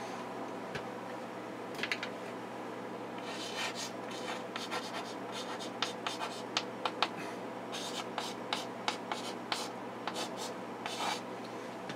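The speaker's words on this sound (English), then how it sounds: "so I'm just going to write out the domain." Chalk or marker writing on a board makes intermittent scratching and tapping strokes, with short clicks and rubs in uneven bursts against a quiet room hum.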